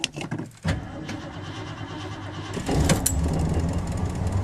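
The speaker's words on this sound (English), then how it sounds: "we're going to start the Torino up" Cold start of a 1970 Ford Torino GT on a near-freezing day: a few clicks and starter cranking, then the engine catches at about 2.5 seconds and settles into a close, rough, rumbling idle.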